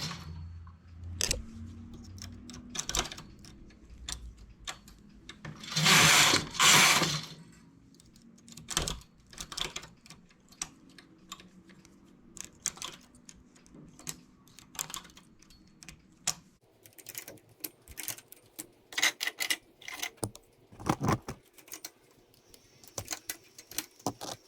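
A machine-knitting carriage runs across the needle bed, making rapid clattering, ticking passes with one loud rushing sweep and scattered sharp clicks, no talking.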